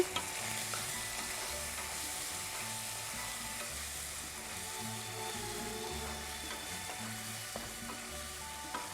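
Chicken sizzles in a pan as red chilli powder and spices are stirred in. A steady frying hiss runs under rhythmic scraping strokes of the spoon, close and continuous, with no talking.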